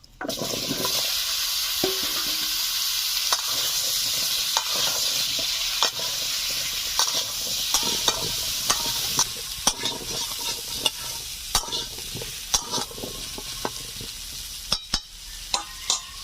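Pumpkin pieces frying in leftover fish oil in a kadai give a steady, close sizzle, with frequent sharp clicks and scrapes from stirring throughout.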